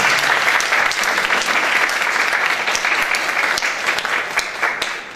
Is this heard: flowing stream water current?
no